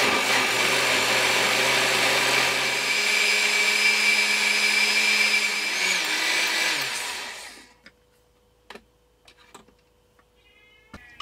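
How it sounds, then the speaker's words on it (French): A blender whirs loudly and steadily up close, mixing coconut milk into a smooth vegan cream, its pitch shifting slightly before it spins down and stops, followed by a few light clicks and taps. "Et on va mixer tout ça."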